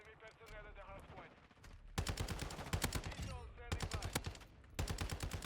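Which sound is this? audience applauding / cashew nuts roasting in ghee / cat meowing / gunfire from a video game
gunfire from a video game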